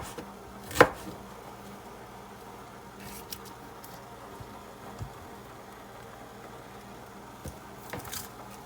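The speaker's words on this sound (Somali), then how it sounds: "yaanyadaasna markaan jarjaro" Tomatoes are chopped with a knife while a rice dish is prepared, giving one sharp, close cut followed by a few scattered, softer knife taps over a quiet kitchen background.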